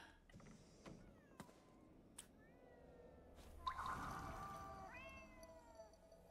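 A cat in the video game GhostWire: Tokyo gives a few soft meows over a quiet ambient background, with faint clicks and creaks around it.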